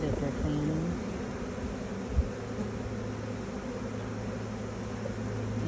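Honeybees fanning at a hive box during a spring inspection give a steady, dense buzzing drone throughout, with a soft thump near the middle and a voice faintly under the hum early on.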